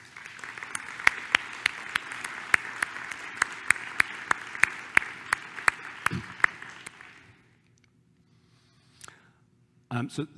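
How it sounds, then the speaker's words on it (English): A conference audience at a presidential address bursts into sustained applause, dense clapping with sharp individual claps standing out, which fades to near silence before a few scattered sounds. "please let's give her a round of applause"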